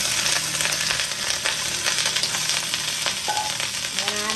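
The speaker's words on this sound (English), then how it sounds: "I'm going to stir fry that around in that oil" Broccoli stir-frying in hot oil in a pan, giving a loud, steady, close sizzle with light scraping and stirring clatter throughout, no talk.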